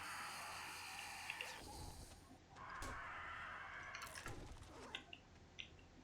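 Crow cawing in a video game, a few harsh calls over a steady watery background hiss, with some bursts fairly close.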